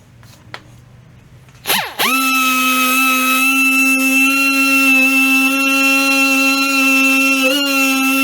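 A dual-action sander spins up on a car body being prepped with 320-grit paper for lowrider candy paint, settling into a loud, steady, high-pitched whine that holds close and unbroken for several seconds after a brief clatter.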